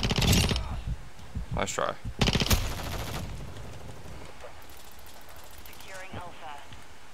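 Sentry gun firing in Call of Duty Modern Warfare II multiplayer: bursts of rapid automatic fire, loudest early on, with mechanical clatter and a brief spoken voice over game chatter.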